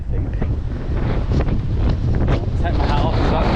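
Strong wind buffets the microphone on an exposed hilltop edge near Matlock Bath, a loud continuous roaring rumble with gusty swells throughout.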